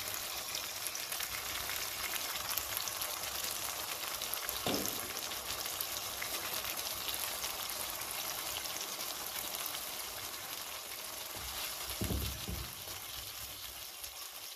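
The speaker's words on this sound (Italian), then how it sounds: "E ora facciamo cuocere le patate per 4-5 minuti" Potatoes cooking in a pan after a splash of vegetable broth, a continuous bubbling sizzle with a couple of low thumps, fairly quiet and even throughout.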